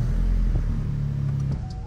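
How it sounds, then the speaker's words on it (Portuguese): A car with a push-button start-stop ignition and about 11,988 km on it fires up and settles into a steady, close engine rumble with no talking. "Precisa da chave pra tá ligando o carro, ó."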